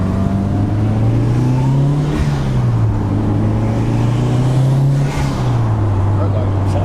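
Modded Mitsubishi Evo VII engine, tuned for pops and bangs, idling and revving in two smooth swells with a loud, steady drone and faint crackle, people talking softly underneath.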